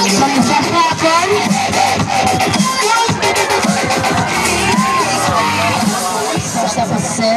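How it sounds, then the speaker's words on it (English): A noisy theme-park crowd cheers and shouts for a diver, with children's shouts, whoops and a loud babble of voices close by, plus scattered bangs and clapping mixed into the din. "Round of applause for Carol."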